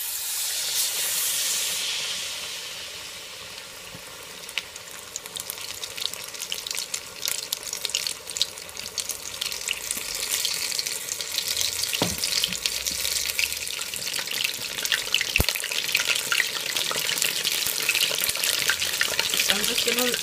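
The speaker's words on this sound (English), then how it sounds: "I'm just gonna add my fish to the oil" Fish sizzles and spits as it goes into very hot oil for fish and chips, a steady loud hiss and crackle filling the whole stretch, with a louder burst of spattering right at the start.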